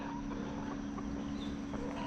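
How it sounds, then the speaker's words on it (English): A rooster near a highway by the Olomana Trail on Oahu, Hawaii, sounding with a sustained harsh cry that fills the whole brief moment, close and loud. "Found some roosters."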